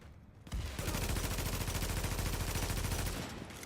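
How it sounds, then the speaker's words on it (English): A shock grenade goes off in The Division video game, giving a loud, close, rapid crackling burst that lasts about three seconds over steady background noise. "That's a shock grenade."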